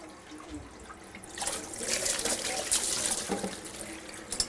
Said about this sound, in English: So all I got to do is wash off my thermometer.